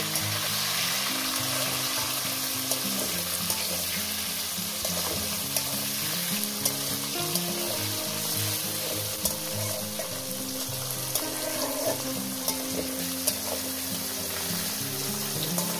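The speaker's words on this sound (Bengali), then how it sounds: "টমেটোটাও আমি মিনিমাম আরো 2-3 মিনিট ভেজে নেব" Tomatoes fry in hot oil in a pan, giving a steady close sizzle with light stirring that lasts throughout, over quiet background music and with no speech.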